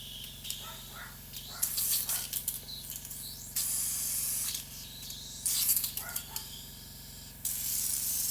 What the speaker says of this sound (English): So I'm gonna do a light spray.